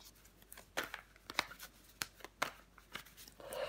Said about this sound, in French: On va recouvrir des cartes. Si j'arrive à les mélanger.